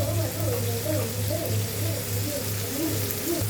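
A little water poured over ginger-garlic paste and green chilies to mix them for a chickpea-pea curry, a continuous soft splashing trickle held at an even level throughout.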